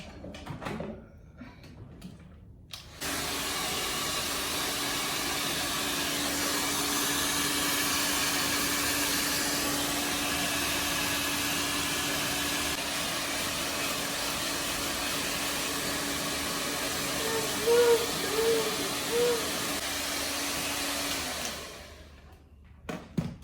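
A hair dryer blows freshly dyed hair in a long, steady, fairly loud whir that starts abruptly, runs for about twenty seconds and then cuts off.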